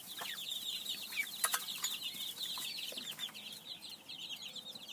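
Chicks and ducks, including Pekin ducklings, White Leghorn and Cornish Cross chicks, crowd together in a brooder, giving off a steady dense chorus of high peeping and cheeping with occasional louder chirps, close by and continuous with no talking.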